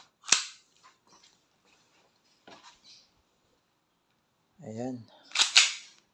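WE 1911 MEU black airsoft gas pistol loaded with gas and BBs firing, with two sharp loud cracks, one at the start and one near the end, separated by quiet stretches with brief talk in between.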